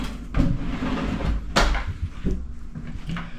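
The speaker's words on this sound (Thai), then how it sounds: "นี่ก็จะเป็นประตูเลื่อนปิดนะครับ" A sliding door in a Kyoto hotel bathroom closes with a few soft thuds and sliding rumbles near the mic, the main bumps landing about a second apart.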